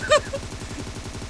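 Rapid automatic gunfire from the mobile battle royale game PUBG Mobile, a steady stream of quick repeated shots running through the whole short stretch, with a brief voice near the start.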